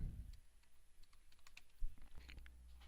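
Keys clatter in quick irregular bursts on a computer keyboard while a fish name is typed into an image search, close and fairly quiet, with no talking.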